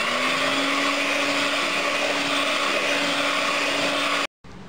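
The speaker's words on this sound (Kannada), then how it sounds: "ಇದಕ್ಕೆ ನಾವು ಸ್ವಲ್ಪ ಸಕ್ಕರೆ, ಪೌಡರ್ ಶುಗರ್ ಹಾಕ್ಕೊಂಡು ಬೀಟ್ ಮಾಡ್ಕೊಳ್ಳೋಣ" An electric beater whirs loudly and steadily, beating a mango ice cream mix with powdered sugar, then cuts out abruptly near the end before a short resumption.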